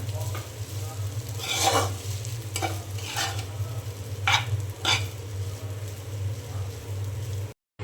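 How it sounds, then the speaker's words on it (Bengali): Noodles frying with egg in a pan give a steady close sizzle, broken by several louder scraping stirs of a utensil against the pan. "আমি খুব ভালো করে এখন ডিমের সাথে ভেজে নিয়ে তারপরে নামিয়ে নেব"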